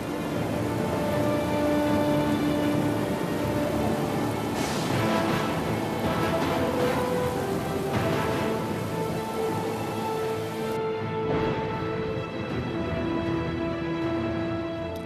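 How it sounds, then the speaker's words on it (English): Heavy rain pours steadily throughout during a sudden storm at sea, a dense continuous wash of sound, with faint rumbles of thunder rolling under it. "a sudden storm arose."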